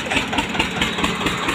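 An Eicher tractor engine pulling a trolley chugs steadily and loudly with a low, labored rhythm, running continuously without any voices.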